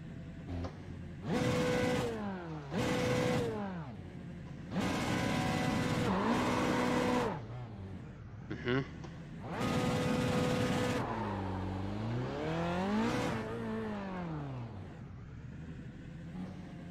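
Formula Renault 3.5 race car engine in the iRacing sim at Spa-Francorchamps, revving hard in repeated loud bursts with rising and falling pitch sweeps and idle gaps between, alone with no talk.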